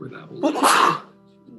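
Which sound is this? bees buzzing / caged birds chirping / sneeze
sneeze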